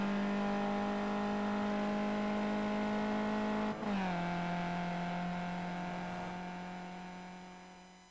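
A small Skippy race car engine drones steadily as it chugs uphill past the pit entry at Road America in a racing game, holding one pitch, dipping briefly during a shift, then fading as it pulls away.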